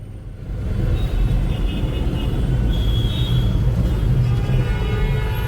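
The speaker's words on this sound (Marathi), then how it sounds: "full traffic jam" Congested road traffic near Dwarka, a continuous low rumble of idling and slowly moving cars and engines that swells after the first second and stays steady, with no talking.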